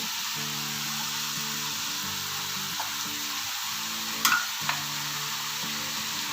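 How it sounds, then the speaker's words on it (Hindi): Garlic rice with chicken, soy sauce, lemon juice and chopped green chillies being stirred in a hot pan, a steady sizzle running throughout with a few sharp scraping clicks of the spoon near the middle. "एक दफ़ा फिर हिला देते हैं, मिक्स कर देते हैं।"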